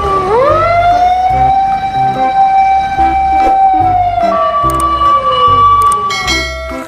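A loud wailing siren rises and holds a steady pitch, then a second tone joins, with a rhythmic beat underneath like an electronic toy fire truck.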